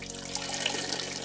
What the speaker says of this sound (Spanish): Mira cómo son salpicados con su propia orina.